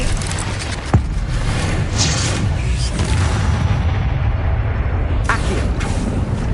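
A Confringo fire spell explodes in Hogwarts Legacy, a loud sharp blast near the start followed by a sustained roaring, crackling burst, with a second flare-up toward the end.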